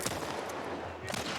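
Gunfire in The Last of Us plays as dense, close bursts of shots over game background noise across a brief moment.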